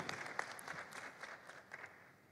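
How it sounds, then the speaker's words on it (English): Audience applause at a church plenary assembly, a moderate patter of clapping that holds steady for a couple of seconds before thinning out and fading near the end. "Round of applause."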